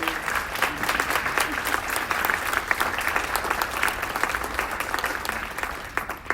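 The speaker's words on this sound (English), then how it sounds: "Let's also give the SOCA reps and leaders a round of applause for the work they do." A crowd applauding steadily, with dense, continuous clapping that holds at an even loudness for several seconds.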